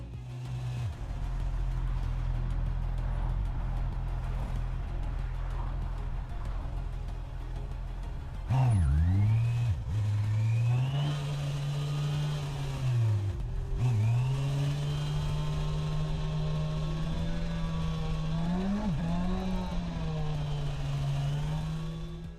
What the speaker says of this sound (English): hearing just the motorcycle engine sound and ambient noise